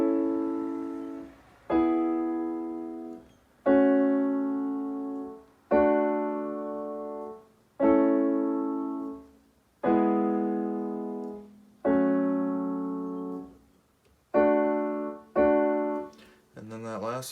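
Solo piano playing sustained chords from the break section of a song, eight or so struck chords each left to ring and decay, evenly spaced about two seconds apart, close and clear.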